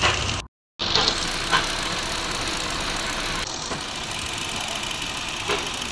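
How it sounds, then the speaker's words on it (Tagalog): A noisy 2014 Hyundai Accent engine idles while warming up, giving a steady, close rumble with a constant knocking rattle. It carries on without a break apart from one brief dropout near the start. "Hihintayin lang po natin po uminit mga boss para mawala po ang ingay nitong makina na to."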